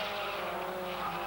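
1990 British Production Saloon Car Championship race cars lapping the circuit up into Druids, engines blending into a steady, fairly faint roar with a hint of tire squeal.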